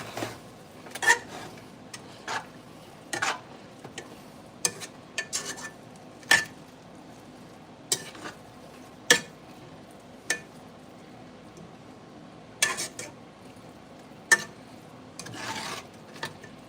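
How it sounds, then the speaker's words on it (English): A spoon scrapes and taps around a pan of Marry Me chicken angel hair pasta, a sparse series of short clinks and rubs spaced a second or two apart, quiet and close with no voices. "I'm gonna quickly give it a quick stir."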